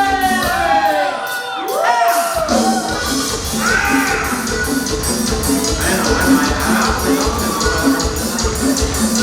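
A large wedding crowd in San Agustín Oapan, Mexico, shouts, whoops and cheers loudly over a pulsing beat of music, with voices rising in waves throughout.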